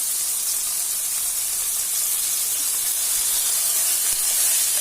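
Ginger, garlic and green chili paste sizzles steadily in a hot pan, a continuous close, bright hiss with no talking.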